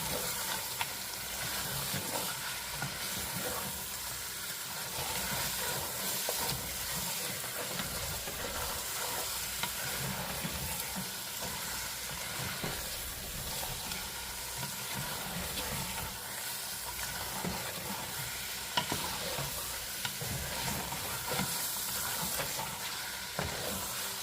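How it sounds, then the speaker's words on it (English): A pot of legume stew sizzles and hisses with a dense, constant frying noise while it is stirred, with occasional soft scrapes and clicks over the steady steam, with no one speaking. "stir everything, mix everything together"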